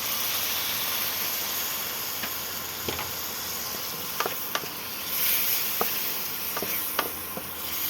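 Spices frying in oil in a pan after a splash of water is added for a dalia khichuri, giving a constant soft hiss and sizzle with scattered small pops and crackles.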